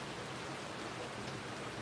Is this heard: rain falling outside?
yes